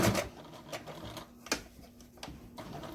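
A sewing machine back stitches in short bursts, quiet mechanical clatters and taps broken by pauses.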